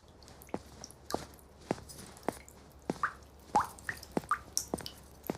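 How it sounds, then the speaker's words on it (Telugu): A leaking water tap dripping indoors, a series of distinct, fairly quiet drips and small plops at an irregular but steady pace, close by, with faint background hum. "ట్యాప్ ఏది రిపేర్ ఉందంట కదా"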